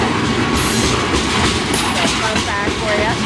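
Rolling train on a rail line: a loud, steady rumble with rattling and clatter throughout, brief high metallic squeals, heard close from inside the car.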